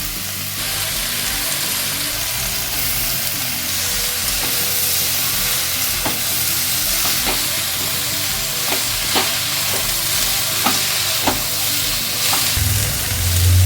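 Chili powder, cumin powder and salt fry with cabbage in a pan for a fish-head cabbage dish. A continuous loud sizzle runs throughout, punctuated by scraping stirs and ending with a low thud.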